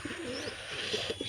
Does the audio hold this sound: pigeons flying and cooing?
yes